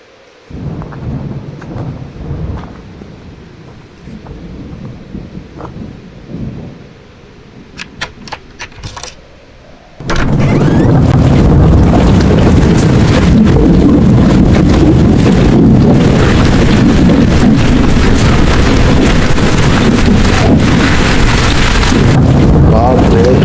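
A cartoon thunderstorm with rain and wind breaks out loudly and abruptly after a quieter opening, keeping up a dense, steady roar of rain and gusts until the end.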